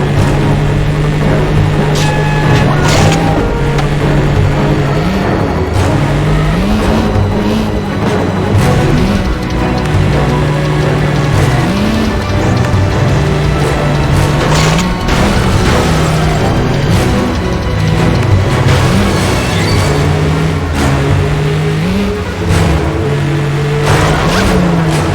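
Car driven in the 007 Agent Under Fire video game, with a steady engine drone that rises and falls in pitch through gear changes, loud and continuous, alongside game effects and music.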